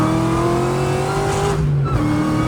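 A Ford Cobra with a 2.2 Kenne Bell supercharger accelerates hard, its loud engine drone joined by a steady blower whine, with a brief dip near the end.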